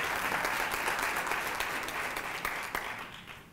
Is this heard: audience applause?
yes